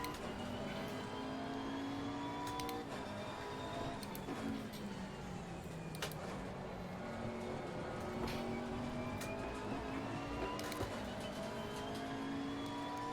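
Race car engine from the sim racing game Assetto Corsa Competizione, a continuous faint engine drone whose pitch climbs and falls with gear changes and throttle, held steady through the whole stretch.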